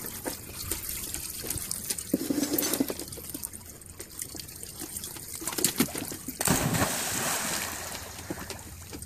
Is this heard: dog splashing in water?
yes